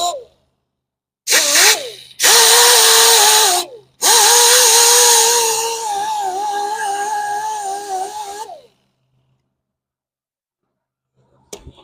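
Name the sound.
grinder smoothing curb rash on Corvette wheel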